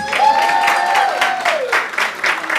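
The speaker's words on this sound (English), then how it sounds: "Give them a big round of applause." An audience at an African women in real estate gathering gives a round of applause, steady rhythmic clapping from a crowd, loud and close, overlapping a sustained tone that slides downward.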